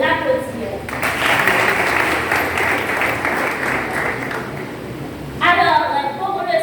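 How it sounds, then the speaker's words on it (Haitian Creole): An audience at a youth activists' summit applauds the guest of honour, a full burst of clapping that lasts several seconds, bracketed by a speaker's voice before and after. "Donc, je vous demande de l'applaudir."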